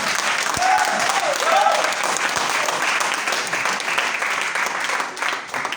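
A Sunday church congregation claps together in loud, dense applause that holds steady for several seconds before easing slightly, with a brief voice rising over it near the start.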